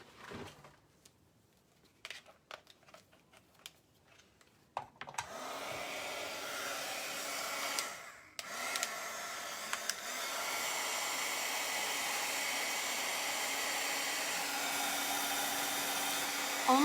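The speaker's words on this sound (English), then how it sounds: "Let me bust out my heat gun real quick." A few scattered clicks and knocks, then a heat gun switches on and roars steadily, briefly cutting out and restarting, blowing hot air to dry wet stencil paint.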